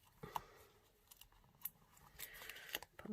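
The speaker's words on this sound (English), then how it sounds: "I'm just gonna cut the corner off" Scissors snipping the corner off a piece of cardstock during papercraft card making, a few quiet, close, brief cuts and rustles in a hushed room.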